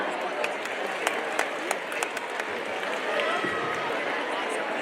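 A crowd at an Indian sports event applauds in welcome of wrestler Yogeshwar Dutt, a continuous wash of clapping with scattered sharper claps, mixed with voices.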